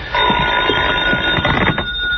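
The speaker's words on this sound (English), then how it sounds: "phone ringing." A telephone rings in an apartment shortly before midnight, sounding a steady, close ring that rattles continuously through the whole moment.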